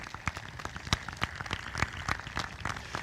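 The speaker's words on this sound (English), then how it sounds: "You can clap for that." An audience claps at a high school Class of 2024 commencement ceremony, a short burst of scattered, moderately loud hand claps heard without talk.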